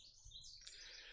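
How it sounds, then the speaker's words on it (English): Birds chirp and tweet in quick bright bursts, a soft faraway chorus heard alone against a quiet background. "The birds are so relaxing"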